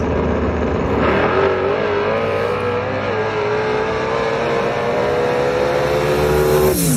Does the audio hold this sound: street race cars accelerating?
yes